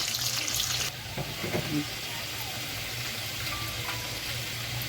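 Chicken pieces being stirred and fried in oil for a chicken and potato curry: a continuous hissing sizzle with a few utensil knocks early on, near and steady, with no talking.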